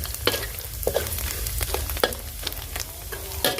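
Pork cracklings frying in a pan for a Thai-style holy basil pork dish, with steady close sizzling broken by repeated short scrapes and stirring knocks.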